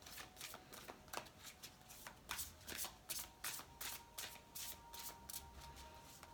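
Oracle cards shuffled steadily for a weekly card reading, a quiet run of soft riffling bursts repeating close by without talk.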